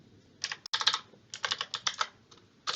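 Rapid, crisp typing on a computer keyboard as a command is entered in a terminal, with several quick bursts of clicks separated by short pauses and no voices.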